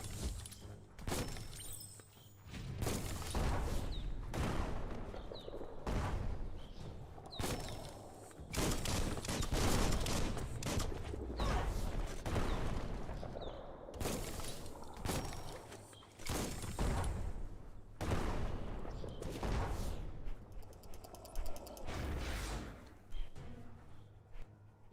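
An enemy bomb lobber in the action game Biomutant hurls explosives, giving a steady run of blasts, cracks and thumps layered with dense combat noise, continuous and loud throughout.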